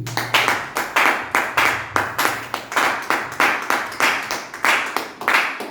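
A church congregation claps in steady, rhythmic unison during worship, the sharp claps repeating about three times a second, fairly loud and alone without talk.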